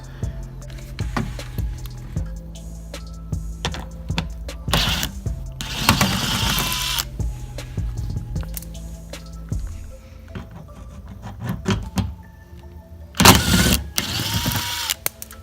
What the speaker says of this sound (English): I just have the cordless, you know, with the 8mm socket. So that's going to be the first step to remove all of those